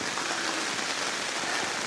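Heavy rain pours down steadily on a car during windy car camping, in a dense, continuous hiss with no voices.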